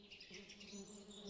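A worker bee buzzes in a children's insect-learning app, making a short, soft, steady hum that ends with a sharp click.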